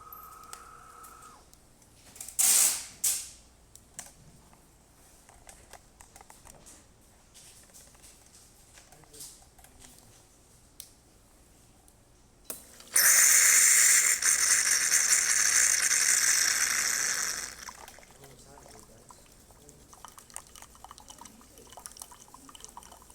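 A DeLonghi Grand Dama coffee machine dispenses hot water in a steady, loud hissing and spluttering stream lasting several seconds, preceded by a brief sharp burst and faint drips and clicks in a quiet room.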